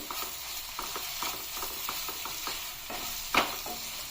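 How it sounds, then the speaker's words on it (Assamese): A spoon stirring cumin powder and garam masala through jackfruit curry in a hot pan, rhythmic close scraping strokes over a low sizzle, ending with one louder clank. "অলপ মিক্স কৰি লাৰি দিম।"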